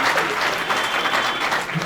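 Audience applause fills the space at a welcoming ceremony, a steady dense wash of many hands clapping loudly and continuously with no pauses.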